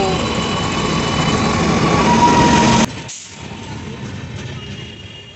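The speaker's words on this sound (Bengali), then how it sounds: "ট্রেন ঢুকে গেছে প্ল্যাটফর্মে, এই দেখো এই ট্রেনে করে আমরা যাব।" A large train engine rumbles loudly and steadily nearby at a platform, then cuts off abruptly, leaving a quieter low hum with faint background activity.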